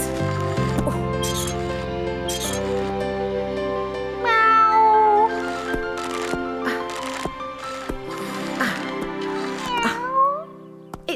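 A cartoon cat meows several times in a row, close and clear, with tonal wavering cries over soft background music.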